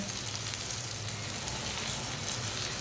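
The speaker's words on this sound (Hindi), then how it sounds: "इसी तरह इसे घुमाते हुए पका लें।" A paratha sizzles and fries steadily in a hot pan, a dense, even crackle that holds at the same level throughout with no voices.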